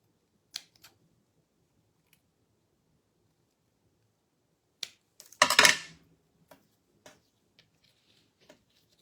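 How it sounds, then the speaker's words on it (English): A quick burst of crisp snipping as scissors cut paper near the middle, a few sharp blade clicks before and after, in an otherwise quiet room. "I'm going to use my scissors and clip off part of it."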